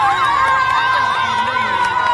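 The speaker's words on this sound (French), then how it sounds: "tous les habitants de Kamituga en train d'applaudir, ils sont très contents" Residents of Kamituga town applauding and cheering in the streets, a loud continuous crowd roar with shouting voices and sustained tonal calls throughout, close and dense.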